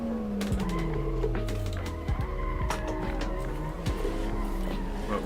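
Car engine revving with tire squeal while drifting down Irohazaka slope in Assetto Corsa, the engine pitch sweeping up and down continuously with a steady, loud drone and scattered skids, no talk.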